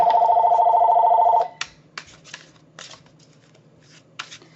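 A telephone bell rings loudly in a steady trill for about a second and a half, then cuts off, leaving quiet room noise with soft shuffling and card-handling clicks.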